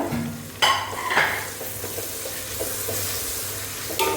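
Tomatoes and green chilies sizzle as they are sautéed in a pan for Lakshadweep-style biryani, a continuous near hiss with a few sharp utensil knocks and scraping stirs, no voices.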